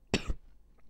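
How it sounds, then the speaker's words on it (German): A single short indoor cough with a second smaller burst, fairly close and alone, from someone with a cold, followed by a faint trailing sound. "ich muss mal husten."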